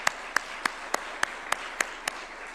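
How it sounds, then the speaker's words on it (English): About eight sharp, evenly spaced claps ring out at a steady slow beat at a Kenyan presidential bill-signing ceremony for the National Infrastructure Fund, faint against a quiet room with no talking. "Please, if they can rise up so that we can applaud them."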